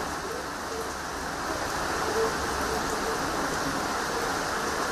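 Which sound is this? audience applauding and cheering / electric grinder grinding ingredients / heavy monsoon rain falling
heavy monsoon rain falling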